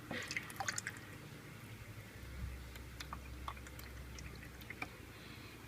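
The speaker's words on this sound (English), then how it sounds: "I think you're just supposed to pour it up there" Water pours and drips into a Drinkwell pet fountain in a thin, trickling stream, with small splashes and droplets scattered throughout at close range.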